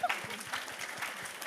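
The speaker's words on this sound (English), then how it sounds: "Clapping." Audience at an International Women's Day luncheon applauding, a moderate wash of many hands clapping steadily, slightly distant and evenly sustained throughout.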